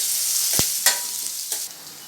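Chopped onions and curry leaves frying in a pan, with a soft steady sizzle and a few sharp scraping strokes of a spoon stirring, close and clear.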